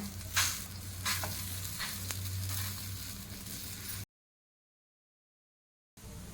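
A dahi dhapate, a mixed-flour flatbread made with yogurt, sizzles and crackles as it roasts on a hot pan, a steady close frying hiss with a few sharper pops and scrapes, then a gap of silence before the sizzle resumes.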